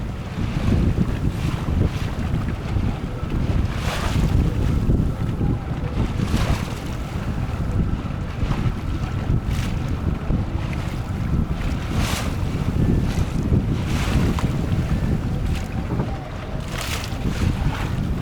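Strong wind buffets a felucca sailboat on the Nile near Aswan, a loud, continuous roar of gusts and microphone wind noise mixed with the rush of water along the hull.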